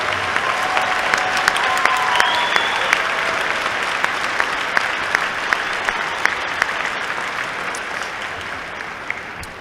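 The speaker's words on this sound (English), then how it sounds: "please stand so we can give you a round of applause" Steady, full applause from a university commencement crowd honoring mothers as they stand, even and sustained throughout with crisp individual claps standing out.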